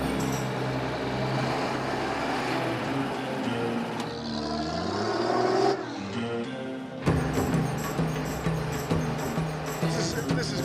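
A truck engine drives along, a steady mid-pitched rumble that shifts through gears with brief dips, heard from the back of the moving vehicle with scattered speech and other sounds over it.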